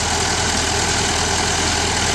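An Allis Chalmers CA tractor and a Honda CB350 motorcycle run together, a steady close idling engine rumble with a slight knocking texture.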